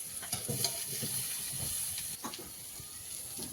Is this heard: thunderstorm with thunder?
no